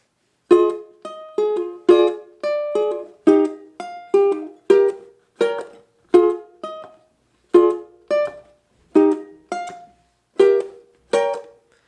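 Ukulele playing the verse and chorus of a song, a steady run of strummed chords with regular attacks, close and clear, no voices.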